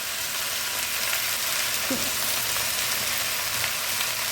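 Amaranth greens fry in hot oil, giving a steady, dense sizzle that stays even throughout, close and moderately loud.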